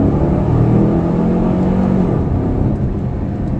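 A 2015 Chevrolet Camaro convertible pulls hard in second gear, its engine a loud, steady low rumble with rising drone that eases slightly toward the end, heard from inside without talk.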